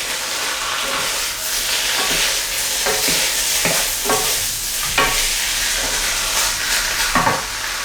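A spoon stirs red kidney beans in chili sauce in a pan of vegetarian chili, with a continuous sizzle and wet scraping, soft stirring strokes recurring throughout at close range.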